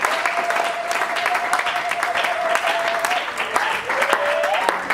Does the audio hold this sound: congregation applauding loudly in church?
yes